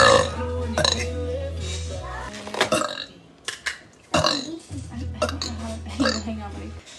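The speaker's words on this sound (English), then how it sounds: "I've been burping a lot." Repeated loud burps from a woman, several long and deep eructations spread through the span, with talk and background voices mixed in between them.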